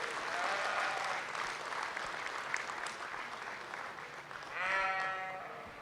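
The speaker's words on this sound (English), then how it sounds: "I think we ought to give these young people a round of applause." Steady crowd applause at a sheep show ring, honouring young exhibitors, with sheep bleating through it, most plainly near the end; the clapping is dense and sustained.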